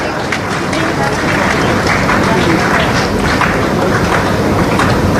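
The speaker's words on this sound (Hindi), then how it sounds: "तालियों की कड़कड़ ध्वनि सभा गूंजती रहनी चाहिए।" A large audience applauds at a government ceremony in Raipur, Chhattisgarh, as a visiting official is welcomed. The applause is loud, dense and sustained from start to end, a continuous roar of many hands.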